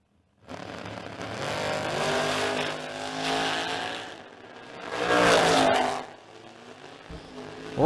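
A 1969 Chevrolet Nova and a Camaro launch off the line at a drag strip, engines roaring loudly and rising in pitch, then swelling again as they pass, with faint distant crowd noise.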